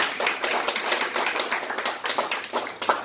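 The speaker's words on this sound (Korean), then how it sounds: "우리 장교육관님을 위해서 여러분 박수 한번 해주셔야 될 것 같습니다." An audience at a church gathering claps for an education official, a moderate, steady patter of hands with a few louder pulses, fairly close and without talk over it.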